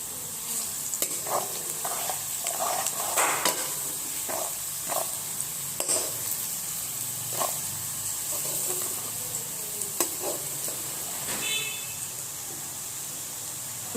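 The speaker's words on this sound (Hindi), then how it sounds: "बस हम 5 मिनट प्याज को और फ्राई करेंगे" Onions with black pepper and garam masala frying in a pan, a steady sizzle broken by repeated scraping stirs of a spoon, close and alone with no talk.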